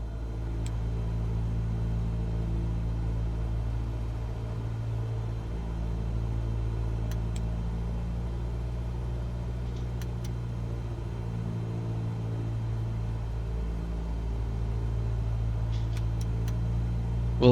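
Light aircraft piston engine in Microsoft Flight Simulator during a magneto check, running as a steady close drone with small dips in level, alone with no talk.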